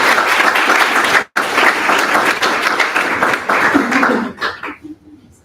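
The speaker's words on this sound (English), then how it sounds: "Round of applause for our speaker." An audience at a student intern symposium claps for a speaker in a dense burst of applause that breaks off briefly, resumes and then thins out into a few scattered claps.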